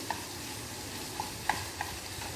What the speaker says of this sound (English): So we're just frying off these onions a little bit.